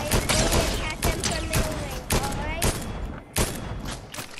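Rapid bursts of gunfire in the video game Fortnite crackle and rattle in repeated volleys, loud and close, with a voice talking in between.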